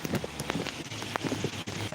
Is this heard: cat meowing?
no